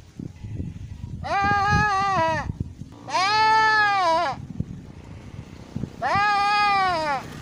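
A goat near a fishing spot bleats three times, long wavering loud calls with quiet gaps between, over low outdoor background noise.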